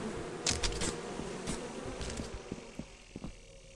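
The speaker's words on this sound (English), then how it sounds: "Especially with these fucking bees." Buzzing bees in the video game Lethal Company, heard as an irregular close drone with scattered sharp thumps and bursts layered over a low background hum.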